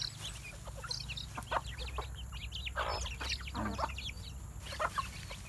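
Backyard chickens cluck repeatedly in short, scattered bursts at moderate distance over a low steady background hum, with no talk.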